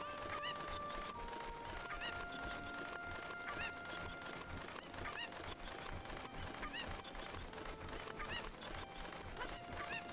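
Cuckoo chickens clucking and honking in Ocarina of Time, a steady run of sharp squawks over game music and effects, moderately loud throughout.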